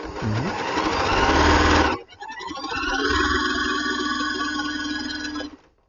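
Heavy-duty sewing machine running fast and loud for about two seconds, then a second steady stitching run with a whining motor tone that cuts off near the end.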